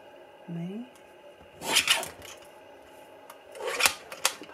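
A mini paper trimmer slices the end off a strip of card in two short, bright rasping strokes, close and fairly loud, separated by a brief quiet gap. A short voiced sound comes just before the cuts.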